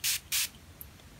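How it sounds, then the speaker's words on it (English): Two quick bursts from a spray bottle misting a makeup sponge for cream-to-powder foundation, each a short bright hiss about a quarter second long, close and loud, followed by a faint tap. "I'm just gonna spray it."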